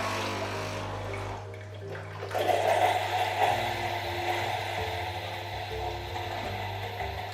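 A Bosch Tassimo coffee machine running a descaling cleaning cycle gives a steady watery gurgle and flow over a constant low electrical hum, with a brief louder splash partway through. It carries on throughout with no talk.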